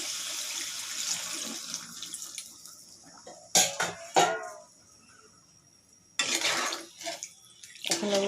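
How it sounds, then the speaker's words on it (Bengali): Water is poured into a curry of pumpkin and bori lentil dumplings, a splashing pour in short bursts with quiet pauses between them, close by with no talk. "এখন আমি বন্ধুরা সেদ্ধ হওয়ার জন্য ঝোলের পানিটা দিয়ে দিলাম।"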